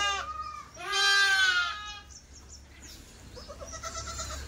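Kathiawari goats and sheep arriving by truck bleat close by: a short call, then a long, loud, wavering bleat, followed by fainter scattered calls from the flock.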